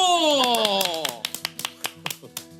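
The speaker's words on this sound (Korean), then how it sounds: "박수!" A studio audience claps on a Korean TV talk show honoring retired figure skater Kim Yuna, breaking into a steady, rhythmic beat of crisp handclaps right after a brief voice at the start.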